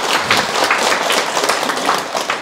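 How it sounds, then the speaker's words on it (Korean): A loud, dense round of applause from the audience at a Sunday special lecture, many hands clapping close and continuous, with no talk over it. "박수 한번 치줘야 되겠죠?"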